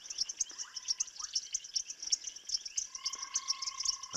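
Painted reed frog (Hyperolius marmoratus) calling at dusk in the African bush, giving rapid, repeated high-pitched chirps in a steady rhythm, with a few other faint calls and whistles mixed in behind.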